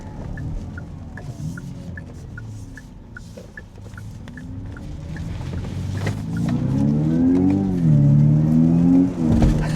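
A 2025 Kia EV6 GT electric car being driven and accelerating, a steady motor whir and road noise that rises in pitch and swells louder toward the end, heard from inside without talk.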